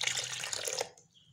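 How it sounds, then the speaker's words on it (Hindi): Water poured into a juicer jug for a homemade vanilla shake, a short splashing rush of liquid that cuts off abruptly, leaving faint residual drips. "और हम लोग इसके अंदर हाफ़ कप जो है वो पानी के ऐड करेंगे।"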